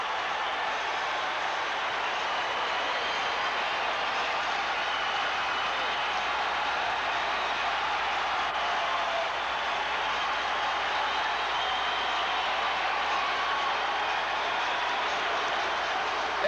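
Arena crowd of nearly eight thousand roaring and cheering after a San Diego Sockers indoor soccer goal against the Memphis Americans, a loud, steady wash of cheers and applause throughout.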